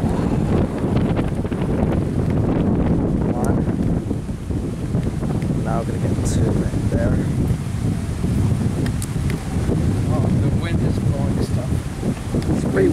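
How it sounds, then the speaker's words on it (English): Steady wind buffets the microphone throughout at a cottage by the Ottawa River, a constant low roar with faint voices in the background. "Windy outside, yeah."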